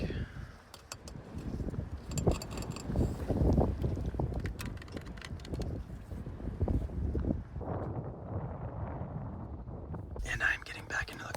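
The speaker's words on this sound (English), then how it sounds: "I'm getting back into the car because it is so windy outside." Strong gusts buffet the microphone outside beside a Volkswagen MKV GTI, low rumbling wind noise rising and falling throughout with a soft voice over it and some handling clicks near the end.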